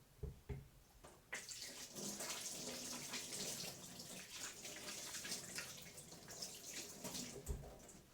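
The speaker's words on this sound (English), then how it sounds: "Give my hands a quick wash." Hands are washed under a running kitchen tap, a close, steady stream of splashing water after a couple of brief knocks, with no talking.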